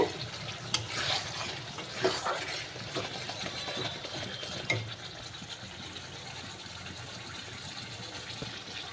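Spice paste with cabbage fries in a pan with a soft, continuous sizzle, while irregular scrapes and clinks from stirring come and go near the start.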